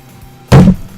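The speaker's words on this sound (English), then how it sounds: "That's the sound of her plopping back in her seat." A single short soft thud of a small character plopping back down into a seat, one close dull thump as a cartoon-style sound effect.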